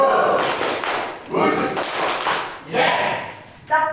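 A school class claps short counted patterns in bursts, each group of claps separated by brief pauses, close and fairly loud in a room, with a voice speaking over the clapping at times.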